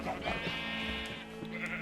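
Blocky Minecraft sheep bleat in a wavering, nasal tone that fills nearly two seconds, close and steady at a moderate level, with a brief second bleat near the end.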